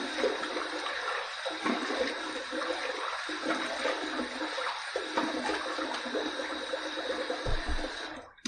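Water running steadily from a tap while a Phoenix Shaving Quantum razor is rinsed, a continuous hissing stream with gurgling and splashing, close by and alone.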